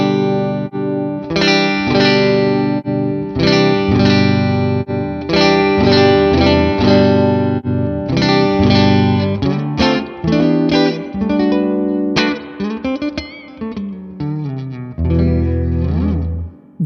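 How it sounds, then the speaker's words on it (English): An electric guitar plays through a Neural DSP Morgan amp plugin with subtle reverb, loud chords and single notes ringing out in a rhythmic sequence, ending in a sustained decaying chord. "That reverb is really, really nice. Very subtle, but really nice."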